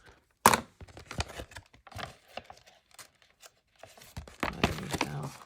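Paper on an altered envelope is trimmed close by, giving soft irregular snips, crinkles and tearing rustles with pauses between cuts and a louder crisp cut near the start.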